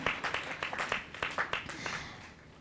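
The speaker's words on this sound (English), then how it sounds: "Now you are clapping." An audience at a yoga demonstration gives a short burst of scattered clapping that fades out after a couple of seconds, moderately close.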